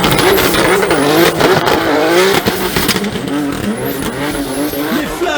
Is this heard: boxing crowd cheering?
no